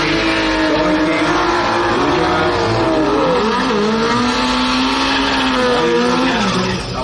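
Drag racing cars at a strip event, a modified Corolla against a Datsun, roar loudly and continuously, with engines revving and rising in pitch as they launch.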